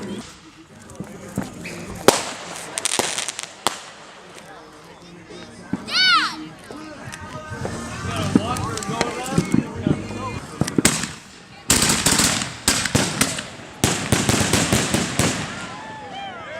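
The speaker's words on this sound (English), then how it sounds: "Trent, let's go check out the fireworks with Ben." Fourth of July fireworks explode in sharp irregular bangs and crackles, some with whistling rises, near and loud, while people talk and shout between the blasts.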